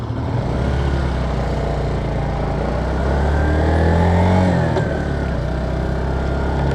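A Suzuki GZ250 cruiser motorcycle engine runs with a steady low thrum that rises in a brief rev and then falls back, close and fairly loud with no voices.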